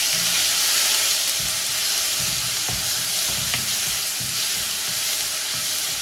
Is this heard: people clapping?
no